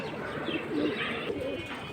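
Pigeons at a busy pigeon market, high-flying racing birds for sale, coo and call continuously at close range over a dense, steady murmur of birds.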